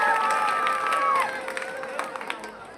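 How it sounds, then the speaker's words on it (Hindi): Crowd at a Hindi comic poetry gathering breaks into applause and cheering, loud at first with a shout or whistle ringing over it, then fading to scattered claps and murmurs. "एक बार जोरदार तालियां बजाएं,"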